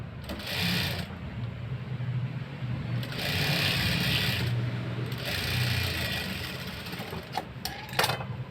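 A sewing machine stitches a piping blouse in steady bursts, with a pause between runs and a few faint clicks near the end; no one speaks.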